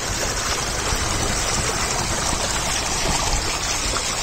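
Water pours steadily down a water slide at an amusement park, a continuous close, bright rushing splash with no break and no voices.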